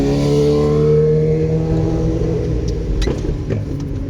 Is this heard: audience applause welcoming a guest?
no